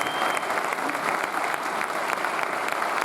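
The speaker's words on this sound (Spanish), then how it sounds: "Dar un aplauso a Dios" A crowd claps continuously at a Spanish-language church leadership talk, a dense, even wash of many hands filling the room from start to finish.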